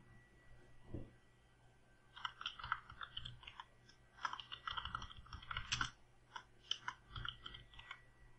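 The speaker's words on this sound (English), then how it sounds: "type in the username" A username is typed on a computer keyboard during a Red Hat Enterprise Linux 6 installation, heard as faint, close, irregular keystrokes after a brief pause, quiet with no talking.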